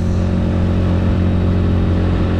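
A heavily loaded motorcycle labours up a steep mountain road toward Mount Bromo in low second gear. Its engine makes a loud, close, continuous drone that holds steady throughout, with no talking.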